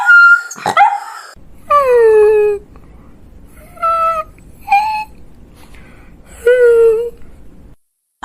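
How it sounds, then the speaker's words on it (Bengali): A cartoon dog whimpers and cries on a riverbank after losing its bone: several drawn-out, voice-acted whines and yelps come one after another, loud and close, with pauses between them. "হাড়টা হারিয়ে কুকুরটা নদীর পাড়ে বসে কাঁদতে লাগলো"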